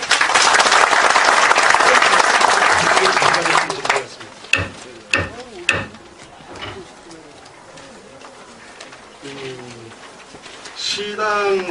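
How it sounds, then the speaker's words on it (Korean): Loud applause from the audience at a Seoul city party founding convention of the Progressive Justice Party, dense at first and then tapering off into scattered claps, followed by someone speaking over quieter room noise. "박수 한번 주십시오"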